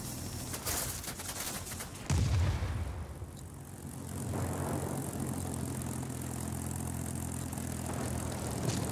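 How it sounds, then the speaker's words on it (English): Rocket fire from an enemy military base in the World of Warplanes combat flight game, heard as a loud burst near two seconds over a steady, continuous engine drone. "The enemy is launching rockets at us from the military base."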